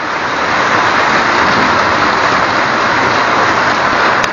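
Heavy rain pours down hard and steadily in a dense, unbroken roar of broadband hiss, loud and close, with no talking.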